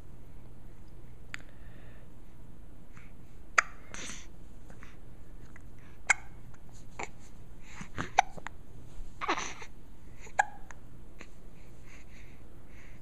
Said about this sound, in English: the hiccups are awful